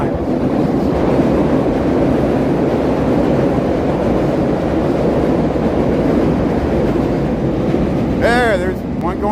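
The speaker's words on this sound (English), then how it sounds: "I hear a train coming by here." A Chicago Red Line elevated train rumbles past close by in the Lincoln Park neighborhood, a loud continuous roar with a brief wheel squeal near the end, while a voice talks underneath.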